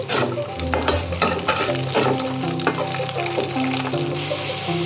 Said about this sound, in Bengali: দিয়ে দিলাম বয়েল আলুগুলো এবার এগুলোকে ভালো করে একটু ভাজবো